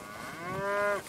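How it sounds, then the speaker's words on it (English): A legendary white bison in Red Dead Redemption 2 lets out one drawn-out, low bellowing moo while dying, fairly close and loud, then cuts off abruptly. "So that's the legendary white bison."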